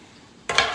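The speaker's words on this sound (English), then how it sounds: "I'm just sauteing my mushroom right now" Mushrooms go into a hot pan for a Korean japchae stir-fry: after a quiet moment a sudden close sizzle bursts up and keeps hissing steadily to the end.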